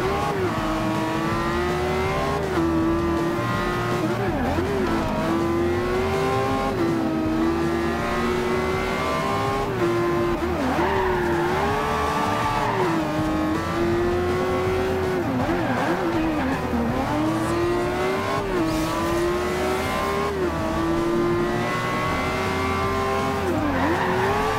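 A hypercar in Forza Horizon 2 revs and races without a break, its engine pitch rising and falling through gear changes, with tires squealing at times and someone talking now and then.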